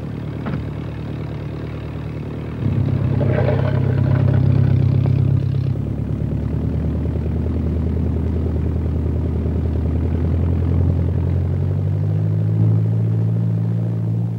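A de Havilland Chipmunk aircraft taxiing, its piston engine giving a steady low rumble and clatter that grows louder about a third of the way in and then holds at a close, even drone with no voices.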